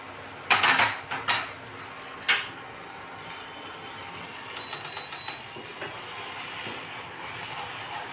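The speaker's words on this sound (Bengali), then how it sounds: "আমি এবার কাজু কিশমিশটা দিচ্ছি, আমি হাফ দেবো আর হাফ গার্নিশ করার জন্য রেখে দেবো।" Cashews and raisins tipped into a kadai of carrot halwa and stirred, a few sharp metallic clinks and scrapes of a spoon against the pan up close, then a quieter steady stirring with a faint hiss.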